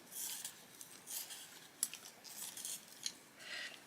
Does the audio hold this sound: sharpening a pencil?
yes